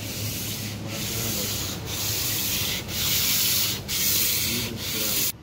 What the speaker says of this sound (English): use 500 grit on our flat block